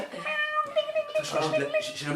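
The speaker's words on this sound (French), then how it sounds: "Un chat mutant." A cat meows repeatedly in rising, drawn-out cries, close and fairly loud, while people talk over and around it.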